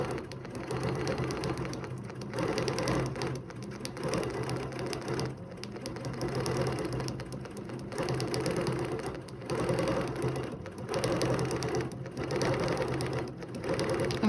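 A sewing machine stitches quilting lines in a steady, continuous whir that runs nearly the whole time, with brief dips as the quilter pauses and repositions, and no talking over it.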